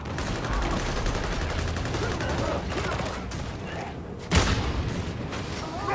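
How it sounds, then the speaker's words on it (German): Gunfire and explosions in the video game Warhammer 40K Darktide crackle continuously in dense rapid bursts, with one sharper boom partway through, loud and busy throughout. "Explosionen gehen auch durch die Rüstung durch."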